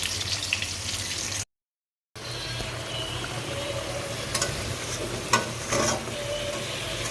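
Pomfret fish cooking in a spicy gravy in a pan, a soft, continuous sizzle and bubbling with a low hum beneath, broken by a short gap and a few scraping clinks of a spoon.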